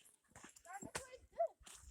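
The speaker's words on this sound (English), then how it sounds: "Oh my gosh, puppies," Puppies on a steep hillside trail give a few short yips and a brief high whimper, close by and mixed in among people talking.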